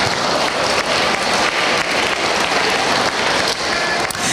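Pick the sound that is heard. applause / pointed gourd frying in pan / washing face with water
applause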